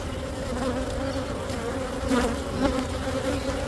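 Honeybees buzz steadily and up close during a winter beehive inspection in December, a dense continuous drone with slight swells, no talking over it.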